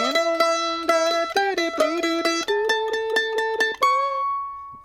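A guitar plays the opening line of the B part of the fiddle tune Old Ebenezer Scrooge, a quick run of clear plucked single notes with slides that ends on one ringing sustained note, heard alone.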